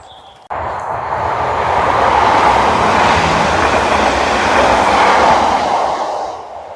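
A train rumbles past close by outdoors, a broad steady roar rising suddenly and holding for several seconds before easing off, with faint wheel clatter in the wash.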